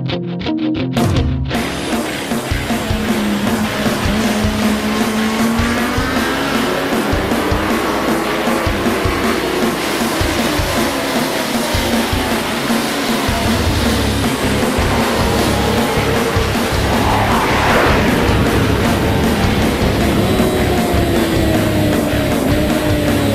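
A 2012 Suzuki GSX-R1000 sport bike laps Homestead Miami Speedway in Florida, engine screaming at high revs with rising and falling pitch through shifts, loud and sustained throughout.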